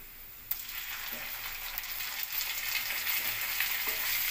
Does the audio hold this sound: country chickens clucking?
no